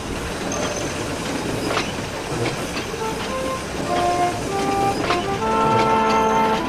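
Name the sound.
train engine running on rails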